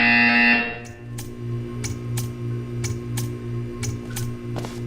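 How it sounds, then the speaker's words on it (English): A harsh electronic buzzer sounds loudly for about half a second in the Portal 2 test chamber, then cuts out, leaving a low steady hum with faint scattered clicks and ticks. "You will hear a buzzer. When you hear the buzzer, stare at the art."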